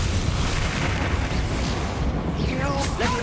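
A Confringo blasting spell explodes in Hogwarts Legacy, a dense, loud, rumbling blast filling the clip, with game combat noise and a few whooshing tones near the end.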